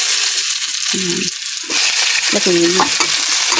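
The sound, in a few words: garlic frying and being stirred in a pan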